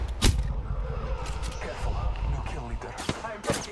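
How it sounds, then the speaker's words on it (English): Gunfire in a fast Apex Legends firefight: sharp shots crack out sporadically under busy game effects while players talk over the action. "I am taking fire"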